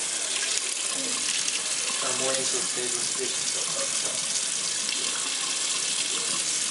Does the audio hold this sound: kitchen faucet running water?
yes